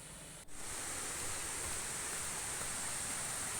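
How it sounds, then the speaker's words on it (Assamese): The Chalka Dare waterfall roars with a steady, dense rush of falling water that fills the whole scene without a break after a short dip at the start. "জলপ্ৰপাতৰ বুৱতী পানীৰ শব্দই আপোনাক ৰোমাঞ্চিত কৰিব।"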